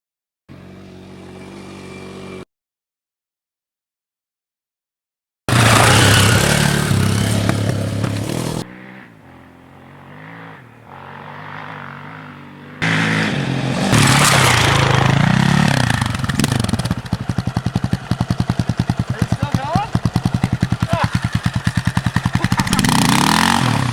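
Motorcycle ridden down Jawbone Canyon, its engine roaring loud and close with heavy wind buffeting, cutting out briefly, dropping to a lower drone, then surging back into a sustained, throbbing roar.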